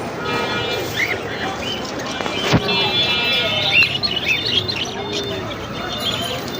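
Many caged birds chirp and tweet at once at the Mirpur bird market, a dense, busy chorus of small calls throughout, with a crowd and passing noise underneath.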